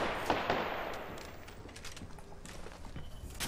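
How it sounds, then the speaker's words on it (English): Sporadic gunshots in the Apex Legends battle royale game, sharp cracks and short bursts at moderate distance, some sharper early hits followed by scattered quieter shots and footsteps. "Opening fire."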